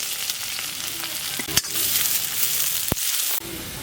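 Steady loud sizzling of chopped large onion frying in hot oil for a beef curry masala, with a few sharp clanks of a utensil stirring the pan.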